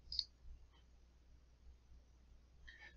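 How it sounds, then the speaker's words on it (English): A single sharp computer mouse click sounds near the start, pressing a create button in a quiet room, with another faint click just before the end. "The next thing, we're going to click on create at the bottom."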